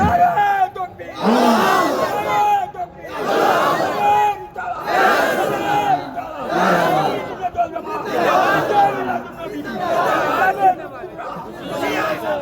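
Crowd at a religious waz gathering in Sadhupara Rezbhia Darbar chanting takbir in loud repeated bursts, about six rhythmic collective shouts with brief gaps between them, voices massed and close.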